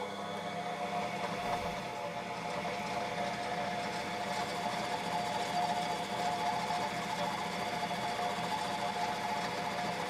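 Metal lathe turning a small motorcycle seat part about 8 mm in diameter for a 5/16 thread, a steady whirring machine drone with faint rattling, close and continuous with no talk.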